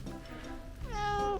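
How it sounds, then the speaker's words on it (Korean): A cat in a studio courtyard lets out a single clear, close meow near the end, its pitch rising and then falling over a quiet background. "고양이 이름 뭐예요?"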